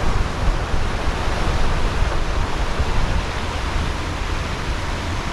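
Ocean waves break and wash steadily onto Nai Harn beach in Phuket, a continuous loud roar of surf with no talking.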